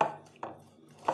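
Lemons are chopped with a knife on a cutting board for a fruit juice concentrate, three soft, separate cuts spaced apart, close and quiet, with no talking.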